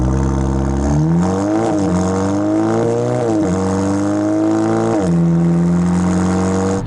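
A 2017 Audi A4 Quattro S Line's 2-liter turbocharged engine revs loudly and close, its pitch climbing and falling through several repeated surges over a constant throaty drone.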